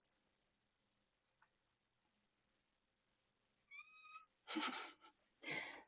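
In a quiet room, a pet cat gives a short high meow, then a few louder close meows and rustling sounds follow in short bursts.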